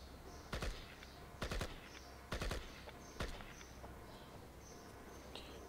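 Gunfire rings out in the shooter game IGI as several separate sharp bursts of shots, spaced a second or so apart over a steady ambient game background.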